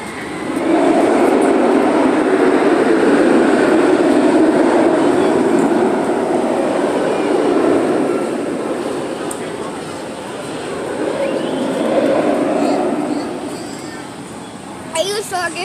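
An amusement park train at Six Flags Over Texas rumbles steadily along the track with a continuous rolling roar that dips and swells, close by, with faint voices mixed in.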